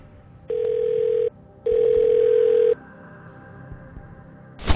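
A telephone ringing for the phone-a-friend lifeline in the Who Wants to Be a Millionaire video game sounds as two loud, steady electronic ring bursts separated by a short pause, over faint game background sounds, ending with a brief sharp noise.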